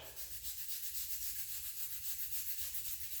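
A wet brush scrubs polishing paste onto a cast aluminum engine part, giving a soft, continuous rhythmic rubbing swish, close and fairly quiet.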